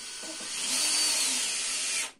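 A power drill bores a hole for a concealed cabinet cup hinge, fitted without a jig. It gives a close, loud, steady high whine that builds up, holds for about two seconds, then winds down.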